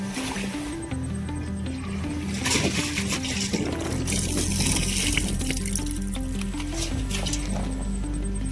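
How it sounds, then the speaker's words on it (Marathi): Water is collected into a container from a natural spring or stream by a rice field, a steady close gurgle and splash over a background of rhythmic chirping insects or frogs. "आता इथून पाणी भरून घेऊ"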